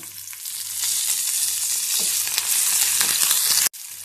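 Asafoetida and curry leaves hit hot oil with a loud, continuous sizzle and crackle, close and alone, ending in a sudden brief cut near the finish.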